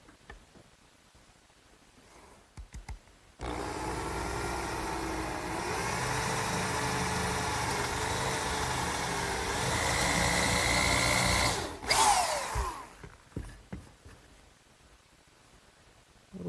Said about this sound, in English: now it's time to drill a hole for the oak dowel. I'm going to use a 3/8 brad point bit